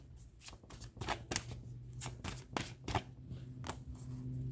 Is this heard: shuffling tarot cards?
yes